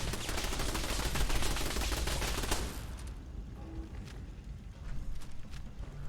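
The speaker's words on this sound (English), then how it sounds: "Yeah, it's definitely shooting at me" Enemy gunfire aimed at the player in Fallout 4, a dense burst of rapid shots for the first few seconds, then sparser distant pops and background game noise.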